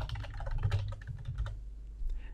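Rapid typing on a computer keyboard while entering hyperlink text in Microsoft Project 2016, a steady run of close, clicky keystrokes lasting about two seconds with no talking.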